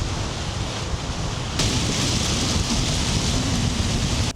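Heavy rain falls steadily around a micro camper van in awful weather, a dense, constant hiss that grows louder and brighter partway through.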